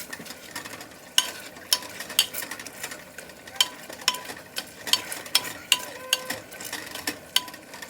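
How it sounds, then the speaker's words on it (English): Tomatoes and onions mashed gently with a potato masher in a pot, giving a regular series of wet squelching thumps and metal clinks over a soft sizzle. "It's a potato masher, and we're going to mash our tomatoes very gently to help cook and unify everything"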